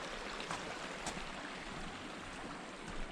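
Steady broadband rush of a small river flowing from a hot spring, continuous and fairly close, with a faint splash here and there and no voices over it.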